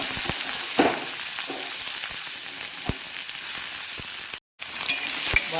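Crushed garlic and shallots sizzle steadily in hot oil while a horse gram curry is being cooked, a loud continuous frying hiss with occasional stirring clicks and a brief dropout near the end.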